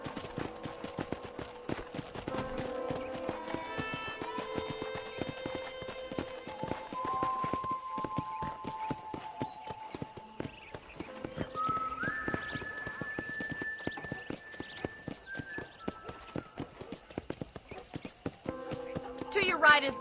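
Horse hooves clip-clop at a riding pace in the Red Dead Redemption video game, a steady galloping rhythm layered under music, with voices of characters speaking over it throughout.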